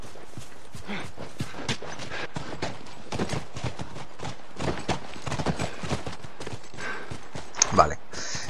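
Horse hooves clip-clopping in The Last of Us video game, with steady walking hoofbeats at moderate distance continuing under someone talking in Spanish and a brief whinny-like sound near the end.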